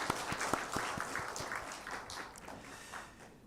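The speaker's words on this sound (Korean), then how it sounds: "우리 축하의 박수 한번 보내드릴까요?" A Sunday worship congregation offers brief congratulatory applause. It is fairly faint and scattered, with a few distinct claps and soft murmuring voices underneath.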